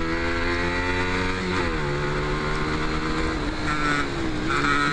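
125cc motorcycles on a race circuit: a steady, loud engine drone with shifting pitch as bikes pass and change gear, with brief speech near the start.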